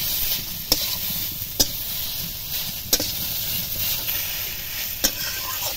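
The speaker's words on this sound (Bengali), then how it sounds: "পেঁপে আলু দিয়ে ভালোভাবে এবার কষিয়ে নেব।" Fried papaya and potato pieces being sautéed in a pan, a steady close sizzle broken by four sharp scrapes of a spatula spaced a second or so apart, with no voices.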